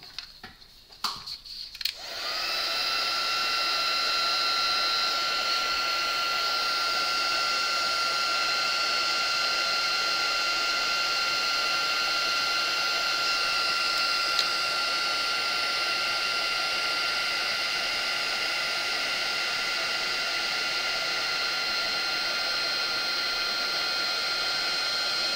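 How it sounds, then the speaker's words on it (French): A heat gun starts up after a brief rustle and then blows hot air over a watercolour painting, a loud, steady whooshing hiss that drones on unbroken for over twenty seconds with no talk. "Je ressors mon pistolet chauffant."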